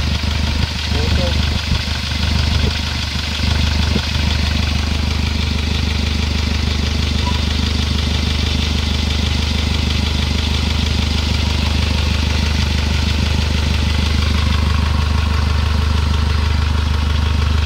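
A worn 2007 Hyundai Starex CRDi with a D4CB diesel engine runs close by and loudly, oil spraying from the engine, making a continuous rough, clattering drone that never lets up.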